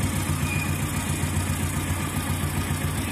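A motorcycle engine idles close by after a timing chain tensioner repair, a steady low rhythmic thrum with even pulsing and no rattling, running alone without talk.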